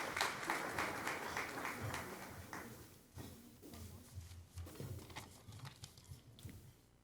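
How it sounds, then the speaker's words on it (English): Audience applause at an awards ceremony greets Bellflower's Mayor Pro Tem, a dense wash of clapping for about three seconds that then thins into scattered, quieter claps and room noise. "How about a nice round of applause?"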